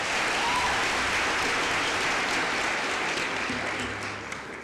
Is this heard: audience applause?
yes